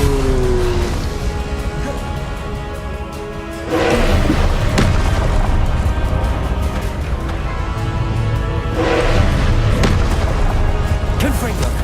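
An Incendio fire spell cast in Hogwarts Legacy: booming, roaring bursts of flame and impact thuds rise in two heavy waves over a sustained rumble, loud and close, with game music and voices underneath.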